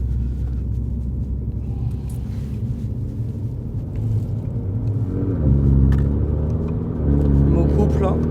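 A Mini JCW with a Stage 1 tune and a stock exhaust pulls hard in third gear, a deep rumbling engine that swells as it accelerates, with someone talking over it inside the car.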